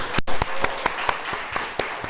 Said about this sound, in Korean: 우리 청소년부 찬양팀에게 박수!